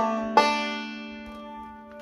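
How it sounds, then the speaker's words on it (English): Bluegrass banjo lick played with a backward slide, a single bright plucked attack that rings out and slowly decays, close and alone. "It would sound like this with a backward slide."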